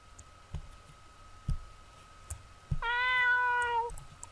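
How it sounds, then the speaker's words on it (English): A cat in the horror puzzle game Ib gives a single clear, drawn-out meow of about one second, after a few soft, sparse clicks and taps in an otherwise quiet room ambience. "I told you it was a cat!"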